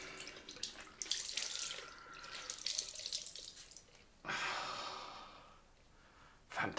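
Cold water runs from a tap in bursts, hissing splashes that start and stop several times, with close breathing between the flows.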